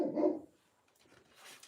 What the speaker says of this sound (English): That's my dog, by the way.